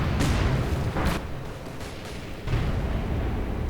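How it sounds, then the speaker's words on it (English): A Katyusha rocket barrage in Company of Heroes 2 sends out a rumbling wall of overlapping blasts and whooshes, several sharp bursts standing out over a loud, continuous roar of explosions. "Katyusha's flying in as well"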